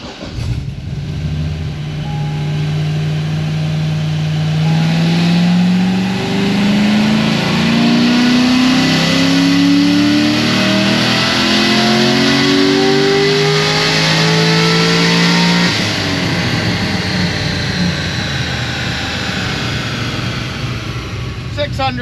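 An LS7-powered car roars through a dyno pull, revving in one long rising sweep that climbs steadily for about fifteen seconds before cutting off and settling into a lower winding-down drone, loud and close.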